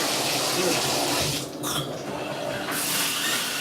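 Water gushes steadily from a tap during a home inspection water pressure check, a loud continuous hiss and splash that briefly dips partway through before surging back at full flow.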